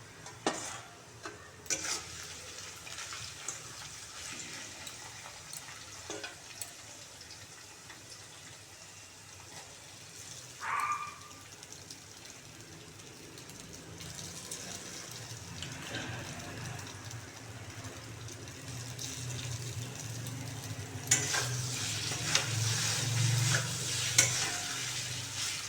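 Noodles for vegetarian chowmein, seasoned with black pepper, are stir-fried in a pan, a steady sizzle with scraping and tossing strokes that grows busier and louder toward the end, with no talking.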